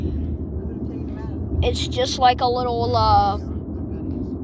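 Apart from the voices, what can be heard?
helicopter flying on a pleasure trip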